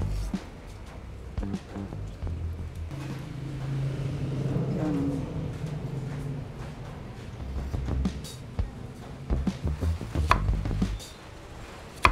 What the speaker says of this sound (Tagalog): Mag-slice naman po tayo ngayon ng sibuyas